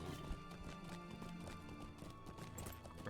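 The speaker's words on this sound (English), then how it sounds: "I'm taking my horsey out." A horse clip-clops in the online game Lord of the Rings Online, with quick hoofbeats under a dense layer of game music, faint overall.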